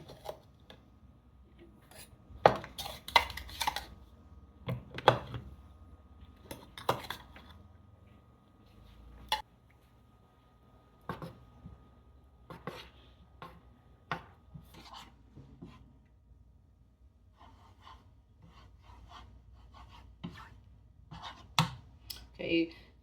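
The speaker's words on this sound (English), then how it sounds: "you just add your crumbs and you just stir them" Cracker crumbs are stirred into melted butter in a pan, giving a series of scraping, tapping utensil sounds with irregular rhythm under a person talking.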